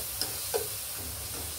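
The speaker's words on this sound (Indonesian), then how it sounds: "Gula goreng." Sugar frying with milk in a pan, a steady soft sizzle and hiss with a couple of faint stirring clicks, quiet and close.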